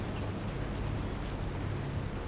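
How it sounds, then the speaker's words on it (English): Steady rain sound effect beneath a creepypasta horror reading, a dense, continuous hiss of falling rain at an even level throughout, with no voice over it. "I wait for the rain to stop so that this bizarre ritual can be over."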